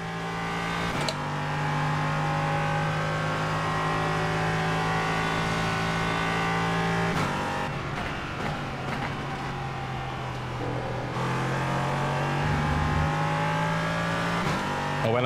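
LMP3 prototype race car engine in iRacing at Interlagos, loud and sustained with steady high revs, abrupt pitch drops at gear changes, then climbing again as the throttle comes back on.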